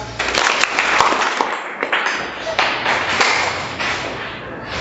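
High school students clap in a school assembly, giving a loud, fairly close burst of irregular claps and thumps that rises and then settles over a few seconds.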